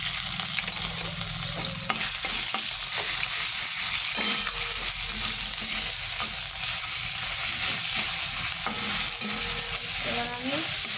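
Ginger paste fries in oil spiced with cumin, whole garam masala, dried chilli and bay leaf, giving a steady, bright sizzle broken by scraping stirs of a spatula.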